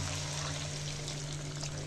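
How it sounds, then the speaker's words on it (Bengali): Boiling hot water pours in a steady stream into a pan of dried ribbonfish (churi shutki) curry, a soft continuous rush over a low background hum, with no talk. "তো আমি এখানে নিয়েছি ফুটন্ত গরম পানি।"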